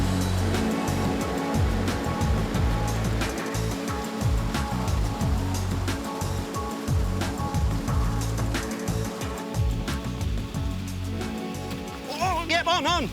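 Loud, constant rush of water pouring over a waterfall in the Northern Territory, a broad steady roar close by with a voice briefly audible over it near the end.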